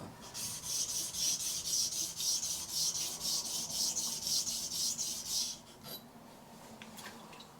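A dog clipper blade rubbed gently back and forth on a wet 400 grit sharpening stone, a steady rhythmic rasping of close strokes that stops near the end, leaving quiet room tone.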